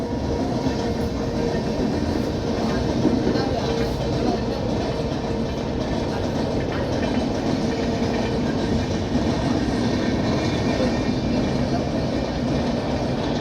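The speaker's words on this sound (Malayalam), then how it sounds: "ഇവിടെ ഇരുന്ന് കാണുന്നവർക്ക് ആ ട്രെയിൻ പോകുന്നതും കാണാം" A train passing by a cricket ground in Angamaly, a continuous rumbling roll of rail cars with a faint clickety-clack from the wheels, steady and fairly close throughout.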